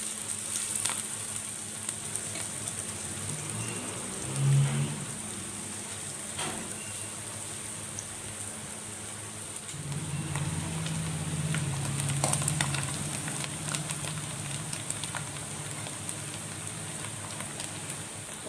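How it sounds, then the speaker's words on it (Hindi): Bitter gourd (karela) and potato pieces fry in oil to a light brown for a Pakistani karela aloo salan, giving a steady broadband sizzle throughout with a few low thumps and clinks from the pan. "अब इनको फ्राई करूँगी लाइट ब्राउन, ज़्यादा ब्राउन नहीं करने, बिल्कुल लाइट सारे ब्राउन करने हैं।"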